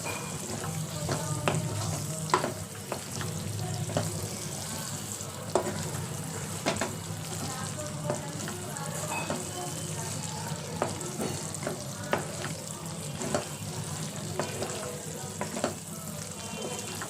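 Capsicum and makhana lotus seeds sizzle in a pan of masala while a spoon stirs them, a continuous close frying crackle broken by regular scraping and clinking strokes, with no talking.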